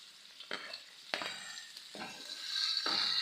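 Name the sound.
ginger garlic paste frying with onions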